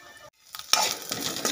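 Fennel seeds and turmeric frying in a pan for poha, a short burst of sizzling with quick stirring scrapes after a moment of near silence.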